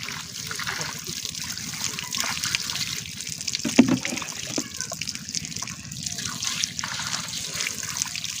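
Tap water trickles and splashes steadily while chicken feet are washed by hand in a village kitchen, with a brief louder splash midway and a voice talking over the running water.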